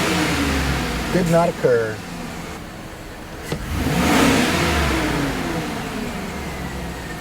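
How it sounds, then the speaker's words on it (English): A car engine roars and revs hard at wide open throttle, rising then falling, with a person speaking briefly over it early on. "Accelerate to wide open throttle."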